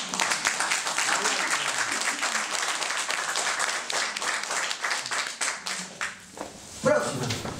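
An audience at a nutrition training lecture claps in a quick patter of hand claps that thins out toward the end, mixed with talking.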